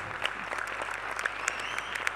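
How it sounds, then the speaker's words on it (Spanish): An audience at a concert applauds a mother named from the stage, giving a steady, even burst of clapping from many hands throughout, with a few sharper individual claps standing out. "un aplauso para ella"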